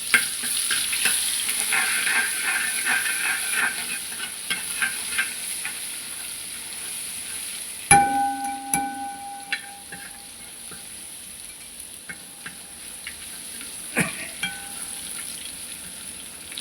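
Dried red chili, ginger and garlic paste fry in hot oil with a steady sizzle, punctuated by clinks and scrapes of a spoon stirring the pan, including a sharp clatter partway through; no voices.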